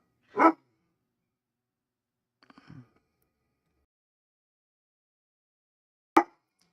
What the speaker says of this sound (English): Hear there, my dog barking in the background.